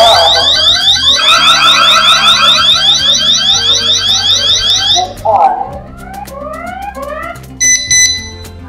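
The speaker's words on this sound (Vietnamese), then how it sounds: "trên còi sẽ phát ra âm thanh cảnh báo" A GSK-A5 wireless alarm siren blares a loud, rapidly warbling electronic tone continuously for several seconds, then cuts out into shorter chirping beeps and a final high bleep.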